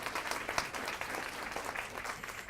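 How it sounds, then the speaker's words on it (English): Crowd of luncheon guests at an awards event claps together, a soft, even burst of applause heard from within the room for a couple of seconds. "Yes, you can clap for that."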